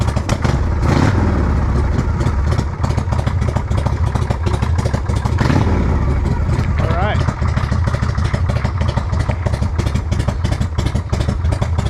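A 1981 Harley-Davidson Shovelhead stroker motorcycle with freshly rejetted carburetor runs close by. A loud, continuous low rumble and clatter fills the whole stretch, mixed with rough wind buffeting.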